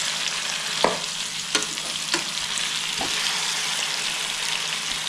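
Chicken fries in a pan with a loud, continuous hiss of hot oil, broken by a few sharp clicks as the pieces are turned.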